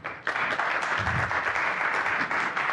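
Steady applause from a conference audience for speakers at a social media event, a continuous dense wash of clapping that holds at an even level throughout.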